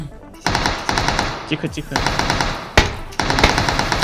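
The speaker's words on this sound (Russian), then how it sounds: "вот тебе два выстрела в голову" Gunfire in the battle royale game PUBG during a squad match, with rapid bursts of loud shots in quick succession and a brief lull midway, while someone speaks quietly over the shooting.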